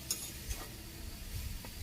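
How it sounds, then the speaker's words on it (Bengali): Ash gourd is stir-fried in a pan in a village kitchen, with a faint, soft background sizzle broken by a few quiet scrapes and taps of a utensil, low and close, without speech. "নাড়াচাড়া করে ভাজি করুন"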